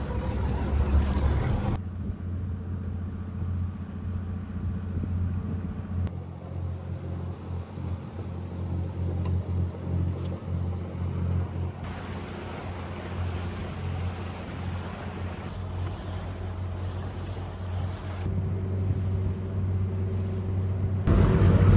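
A Fisher 30 boat motoring through the water toward the yard to be hauled out, a steady low engine drone with rushing water and wind that holds throughout, no talking.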